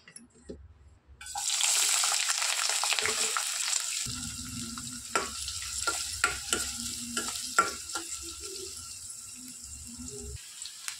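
Sliced onion and green chillies frying in two tablespoons of oil in a pan, a steady close sizzle with intermittent stirring scrapes and clicks across the clip.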